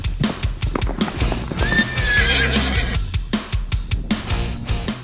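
Horses in Sumba, Indonesia, with hooves clip-clopping in a quick irregular rhythm close by and a loud neigh rising midway through, the hoofbeats continuing around it.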